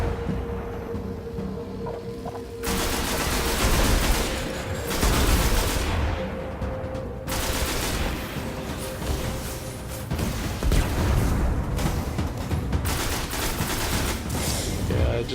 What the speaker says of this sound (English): Yeah, I just love that grenade.